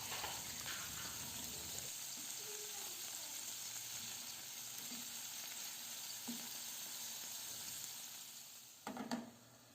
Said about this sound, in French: je vais les faire dorer de l'autre côté